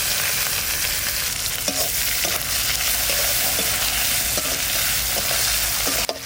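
Chopped onions with dried chillies and cumin frying in a pan, a loud continuous sizzle with repeated spatula scrapes and stirring knocks throughout, close up with no voices.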